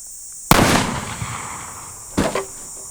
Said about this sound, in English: shooting a bowling ball with a 500 Magnum